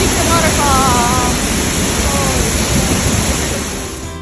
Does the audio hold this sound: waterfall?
yes